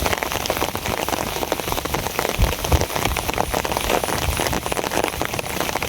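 Heavy rain pours steadily onto the surfaces of a riverside village, a dense, loud patter of drops that continues evenly, with no voices.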